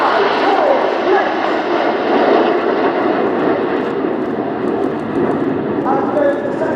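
Red Arrows jets fly an airshow display at RIAT, a steady loud roar of jet engines filling the whole stretch, with a commentator talking over the continuous noise.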